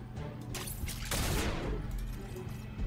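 Gunfire in a strategy video game, a fusillade of overlapping shots swelling into a dense loud burst midway and trailing off, over a steady background hum.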